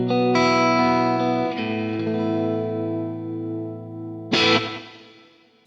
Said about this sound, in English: Now again, I'm going to turn on the delay and reverb, and it sounds like this.